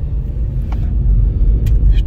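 Inside a Nissan Note N-tec while driving, a steady low road and engine rumble fills the cabin, with a few faint brief knocks or clicks over the constant hum.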